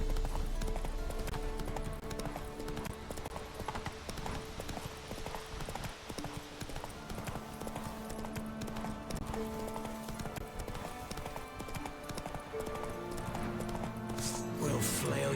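A horse gallops with rapid, continuous hoofbeats in the video game The Witcher 3, mixed with a dense game soundtrack and ambience; characters' voices speak over it.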